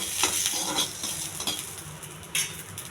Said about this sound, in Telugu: కొద్దిగా శనగపప్పు, కొంచెం జీలకర్ర, కొన్ని ఆవాలు, ఇవి దోరగా వేగించాలండి.